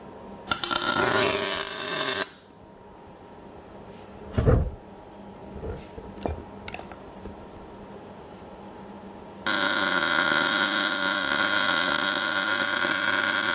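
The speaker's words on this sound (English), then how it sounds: "So I'm just about to fill it with weld now." Bursts of harsh crackling arc welding filling a BMW E46 330 differential, a 3.38-ratio small case, loud and close, separated by a quieter stretch with a few knocks before the buzzing resumes.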